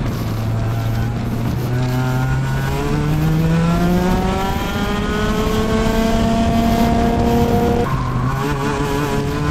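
An Alpha X30 two-stroke 30 hp kart engine of about 130 kg revs up loud and close, its rising whine climbing steadily through the gears for several seconds, dropping back briefly, then climbing again.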